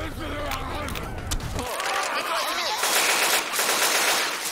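Rapid automatic gunfire from Left 4 Dead 2 rattles in dense bursts, loud and continuous, with players' voices talking over it.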